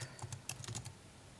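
Close, quiet keystrokes on a computer keyboard come in a quick, uneven run as code is typed, then stop, leaving near silence.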